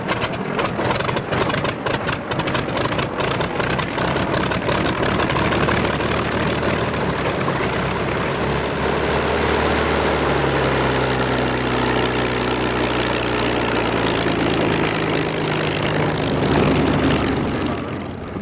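A Yakovlev Yak-3 fighter's piston engine drones at an airshow, a loud sustained propeller roar with rapid rhythmic beating early on, then smooth tones drifting in pitch as it settles.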